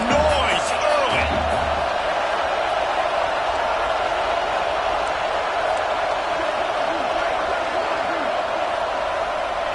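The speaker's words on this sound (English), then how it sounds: "This crowd bringing the energy and noise early." A football video game stadium crowd roars and murmurs in a dense, continuous wash throughout, with a few thumps near the start, heard near and loud without any clear talk over it.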